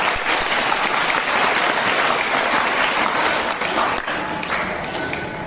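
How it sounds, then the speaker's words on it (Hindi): Audience applause at a Swadeshi Jagran Manch event for local entrepreneurs, dense steady clapping from a large crowd that holds for several seconds and then eases slightly near the end. "तालियों में कंजूसई नहीं करना,"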